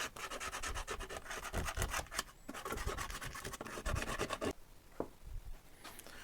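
A pencil traces an outline around a honeycomb template laid on a furniture board, giving continuous close scratchy rubbing strokes with brief pauses.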